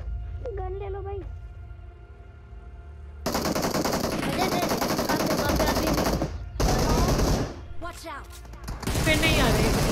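Automatic gunfire in the battle royale game BGMI, rapid bursts of shots in several clusters, loud and close, after a short stretch of quieter game sound, with a voice talking over parts of it.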